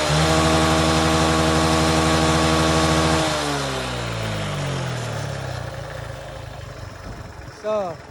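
A motorcycle engine runs steadily and loud nearby, then revs and pulls away, its drone falling in pitch and fading into the distance as it rides off; a brief voice is heard near the end.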